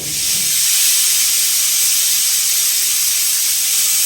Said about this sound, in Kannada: ಕುಕ್ಕರಲ್ಲಿ ಇಟ್ಬಿಟ್ಟು ಮೂರು ವಿಸಿಲ್ಸ್ ಕೂಗಿಸ್ಕೊಳ್ತೀನಿ